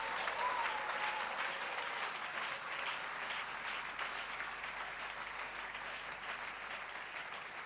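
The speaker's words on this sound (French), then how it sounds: "quelqu'un doit offrir à Dieu une acclamation ce matin." A church congregation applauds during a Sunday service, a steady, even roar of many hands clapping together heard from a slight distance, sustained throughout with a faint tone near the start.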